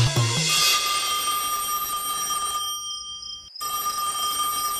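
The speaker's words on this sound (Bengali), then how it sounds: "একে ফোনটা ধরছে না কেন?" A telephone bell rings loudly and continuously in a domestic scene, its steady electronic tone sustained with a brief cut near the end before resuming.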